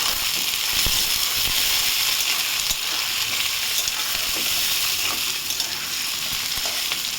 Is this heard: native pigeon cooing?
no